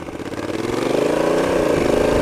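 A Honda Africa Twin Adventure DCT motorcycle engine revs up steadily under load in normal drive mode, its pitch climbing before an automatic gear change near 4,000 rpm, heard close with no talking.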